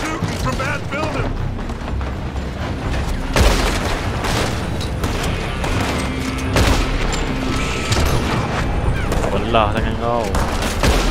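Dense gunfire in a Red Dead Redemption shootout, rapid overlapping shots and booms cracking continuously and loudly, with someone speaking briefly over the battle.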